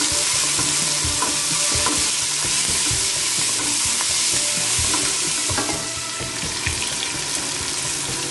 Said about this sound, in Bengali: হলুদ গুঁড়ো দিয়ে দিচ্ছি, আমি খুব সামান্য হলুদ গুঁড়ো দিব।